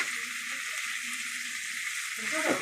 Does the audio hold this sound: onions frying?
yes